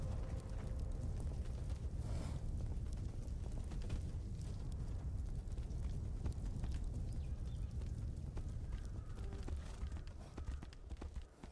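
Rapid hoofbeats thunder steadily over a dense, noisy soundscape in Tainted Grail: Fall of Avalon, a galloping horse close by throughout.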